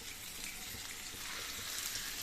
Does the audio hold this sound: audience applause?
no